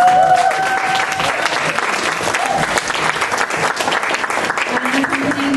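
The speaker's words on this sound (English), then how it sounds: "so she might need a round of applause" Steady, sustained applause from an audience at a music school student performance, clapping continuously from start to finish.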